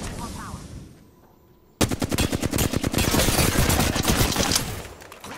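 Automatic gunfire in Apex Legends: after a quiet opening, a dense, loud, rapid stream of shots bursts in and holds for several seconds before tapering off.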